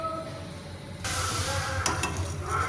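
Banana pancake batter fries in ghee and butter in a pan, giving a soft crackling sizzle that swells abruptly partway through and continues as a steady hiss with small pops.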